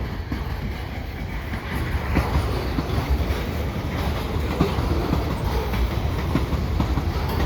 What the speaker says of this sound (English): it's been a while since I've seen the CSX train here on CN